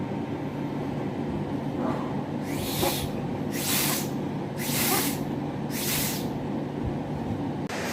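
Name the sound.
improvised spray pump assembly spraying air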